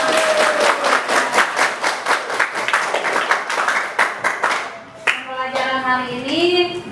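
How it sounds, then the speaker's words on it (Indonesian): Classroom students clap in quick rhythmic bursts that are loud and close for about five seconds, then a voice speaks once the clapping stops. "Kasih tepuk tangan untuk kita."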